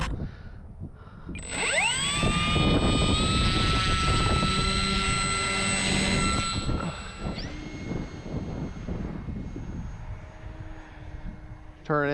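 Electric motor of an FMS ASW 17 RC powered sailplane spins up into a steady high-pitched whine, holding loud for several seconds before easing off as the model flies, with a person talking intermittently over it.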